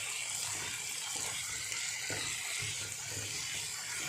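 Water pours into a cooking pot of semi-fried chayote vegetables for sambhar, a steady rushing, hissing flow that runs unbroken and fairly close.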